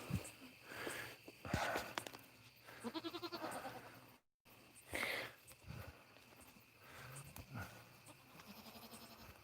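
A goat bleats in several wavering calls spread across a night-time farm scene, close and fairly clear, with rustling and footsteps between the calls and faint crickets in the background.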